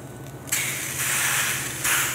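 Food hits a hot oiled cast iron grill pan with a sudden loud sizzle that holds as a steady spitting hiss, then flares again as more goes down.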